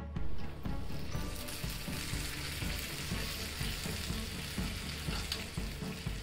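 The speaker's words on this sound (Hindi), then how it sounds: "ये छौंक हमारा रेडी है जो कि हम अब कढ़ी के ऊपर डालेंगे।" Hot tempering of red chili powder sizzles and crackles steadily as it is poured onto Punjabi kadhi, a loud, close, continuous frying hiss with faint stirring and no voices.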